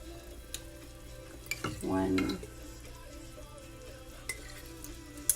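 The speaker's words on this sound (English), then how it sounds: "Give that a little stir" Gravy mixture stirred in a pot, a soft low sizzle with faint clinks of the utensil and one brief louder scraping swirl midway, quiet and close, no talking.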